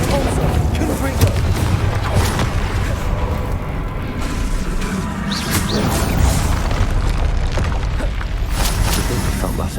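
A Confringo fire spell bursts in a Hogwarts Legacy battle, delivering a loud, sustained rumbling boom with crashing debris over continuous combat noise and game effects.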